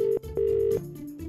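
Telephone tones in a Tonka diecast big rig toy advert, a phone dialing to call the police: two long steady beeps separated by brief gaps, then a lower sustained tone, clear and close.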